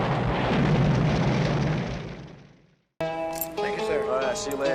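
A film explosion during a tense long take: a loud broadband roar that swells then fades into silence over about three seconds, after which music with sustained tones takes over.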